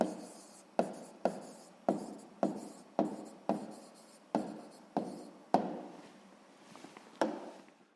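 A pen writes a maths solution on paper up close, its strokes arriving as a series of short, crisp scratches that repeat every half second or so, fairly loud and with no talking.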